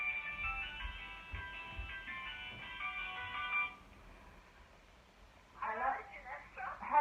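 A phone ringing with a repeated tonal electronic ring, clear and fairly loud, pausing briefly before sounding again, with low bumps of handling noise underneath.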